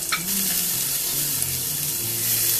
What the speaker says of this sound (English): Fry the garlic